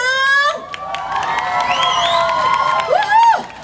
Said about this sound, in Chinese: 今晚搁一个台北电影节新科影帝吴鹏凤，尖叫！